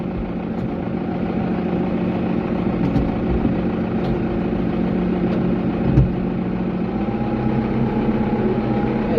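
A tractor engine idles and runs steadily at close range, a continuous mid-pitched rumble with a slight bump near the end, and no talk over it.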